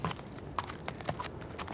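A brown horse walking on a street in Velden, hooves clip-clopping in a steady rhythm of several hollow knocks, moderately close, with faint background noise.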